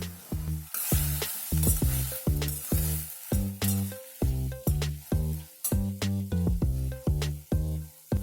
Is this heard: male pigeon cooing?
no